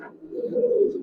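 An old-breed Giribaz pigeon gives a single low, drawn-out coo close by, steady and alone.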